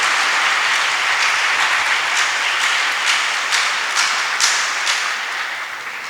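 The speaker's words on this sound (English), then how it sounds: "I want you all to give everyone a round of applause for making this a" Audience at a secondary school graduation ceremony gives a loud, sustained round of applause, with dense clapping filling the room and slowly tapering off near the end.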